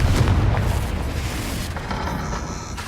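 A Confringo fire spell explodes in the video game Hogwarts Legacy, giving a heavy booming rumble with crackling bursts that carries steadily through the whole moment.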